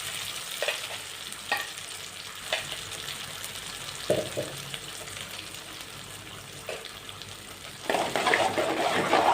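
Ground spice paste and curry leaves frying in a pan: a soft, steady sizzle, broken by a few sharp scraping stirs and a louder burst of frying near the end.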